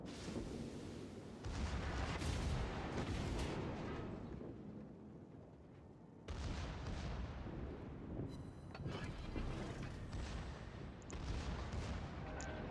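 Battleship secondary guns firing in World of Warships from a Großer Kurfürst, heavy rumbling booms and repeated blasts that roll into one another over a continuous low roar, no voices.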